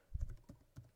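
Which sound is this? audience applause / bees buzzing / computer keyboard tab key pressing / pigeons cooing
computer keyboard tab key pressing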